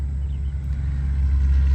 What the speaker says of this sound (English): I apologize for the noise behind me, but we are here on the interstate.